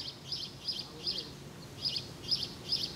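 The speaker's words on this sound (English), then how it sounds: "Bird song," Birds chirp in short repeated bursts at a steady rhythm, bright and fairly close, over a soft low background rumble of traffic in an outdoor garden.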